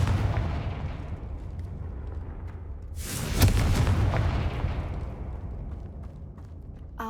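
A Confringo fire spell in a Harry Potter video game goes off as a sudden loud blast, a sharp burst with a rumbling tail that fades over a few seconds above a low ambient bed.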